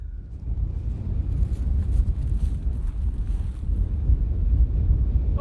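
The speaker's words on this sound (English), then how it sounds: "It is a cold and windy day out here." Wind buffets the microphone outdoors on a cold, windy day in an orchard during fruit tree pruning, a loud low rumble that surges and eases in gusts throughout with no voices.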